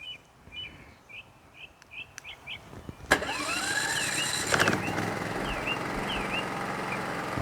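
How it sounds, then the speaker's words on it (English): A Champion 4500W remote-start inverter generator starting outdoors with birds chirping beforehand; a sudden crank catches into a steady engine hum that settles to a running idle and continues, close and fairly loud. "let's get the generator started."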